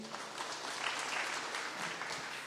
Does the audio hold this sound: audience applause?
yes